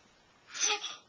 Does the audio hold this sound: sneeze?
yes